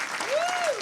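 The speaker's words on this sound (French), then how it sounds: "Oui, une main d'applaudissement pour ça, s'il vous plaît." A brief patter of clapping from a group, with a faint rising and falling tone gliding over it.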